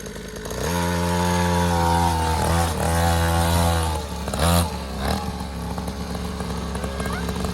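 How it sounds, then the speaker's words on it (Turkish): Motocross motorcycle engine revving loudly and close by, a steady high-pitched drone that rises and falls under the throttle with a short surge near the middle, while people talk faintly in the background. "Motoru hızlandırmadan buraya çıkamazsın zaten tamam mı?"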